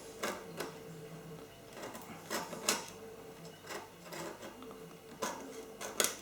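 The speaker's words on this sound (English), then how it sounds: "Then I'm going to use the back end of a knife. I'm really going to just try and scrape" Back of a knife scraping seeds from a vanilla pod for a no-bake cheesecake, a series of quiet, rhythmic scrapes and taps close by.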